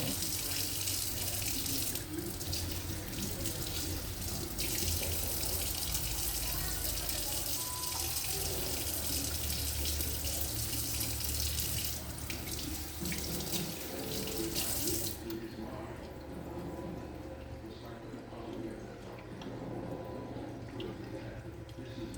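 A kitchen tap runs steadily while hands are washed after handling raw pork, a continuous close splashing stream that cuts off about two-thirds of the way through, leaving quieter handling sounds.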